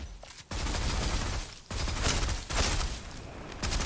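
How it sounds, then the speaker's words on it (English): Gunfire from shooting enemy bots in the game Honkai: Star Rail comes in sustained loud bursts, broken by brief pauses, with no talking over it. "We're just gonna shoot these guys."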